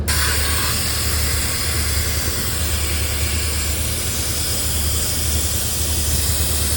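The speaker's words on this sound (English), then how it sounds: "I think that the air is injected in the bag. So there's the hose for the airbag." Air hisses steadily through a hose into a plastic fish bag while restocking a lake, a loud continuous broadband rush that stays even and unbroken from start to finish.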